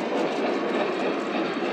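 Several large model trains running at the same time on a layout: a steady, continuous rolling rumble and whir of wheels on track, moderately loud and close, with no voices.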